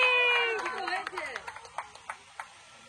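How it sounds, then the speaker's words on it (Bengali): A group of people at a 50th wedding anniversary celebration clap their hands in a quick run of scattered, fairly close claps that fades out, right after a person speaks. "হাততালি।"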